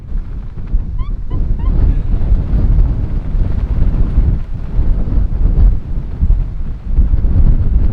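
Strong wind buffets the microphone at a coastal lighthouse in Tasmania with heavy, continuous low roaring and gusts that swell and ease, loud and close.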